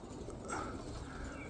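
Roller pigeons coo softly in their loft, a low, faint burbling murmur over quiet background hum, with no talking.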